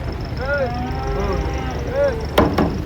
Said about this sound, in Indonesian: Yo sapinya udah mundur guys.